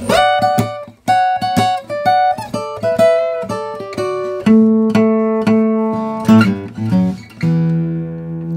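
Fingerstyle guitar picks out the intro to a song, a sequence of crisp plucked notes and small chords with open E and fretted strings, close and clear, no voices.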